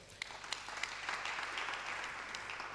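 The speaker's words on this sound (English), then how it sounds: "Please, a round of applause for them" A seminar audience at an Anglican professionals' fellowship in Lagos gives a round of applause, a steady, moderately faint wash of many hands clapping with a few sharper claps standing out, lasting throughout.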